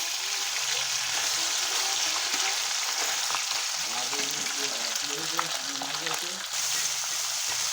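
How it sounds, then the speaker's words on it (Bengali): Ganges bele fish frying in hot oil in a wok, giving a steady, close sizzle and crackle that holds for the whole stretch, with small stirring clinks and a faint voice. "তেল আমার গরম হয়ে গেছে। এখন মাছগুলো ভেজে নেব।"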